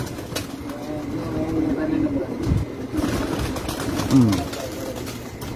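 Pigeon on a rooftop giving soft low cooing calls, a few murmured coos close by amid rustling and background noise, with someone talking over it.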